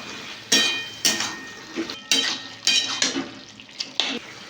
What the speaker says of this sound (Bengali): আমি ঘি দিয়ে দেবো এখানে আর ভালো করে নেড়ে নেবো